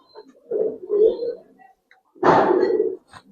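Silver Giribaz pigeons, some in moult, give soft, close coos in two low bursts, a murmur first and then a fuller coo, with short gaps between them.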